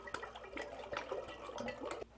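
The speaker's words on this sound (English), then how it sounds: "I'm gonna go ahead and top up with cold water to bring the temperature back down to something reasonable" Cold water poured into a homemade lemon wine brew, a steady close splashing and gurgling with small bright drips, faint and continuous, stopping abruptly at the end.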